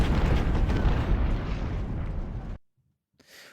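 Rumbling artillery explosions and cannon fire from a Civil War strategy game battle, the First Battle of Winchester, form a loud continuous roar that cuts off abruptly into near silence, followed by a faint rumble.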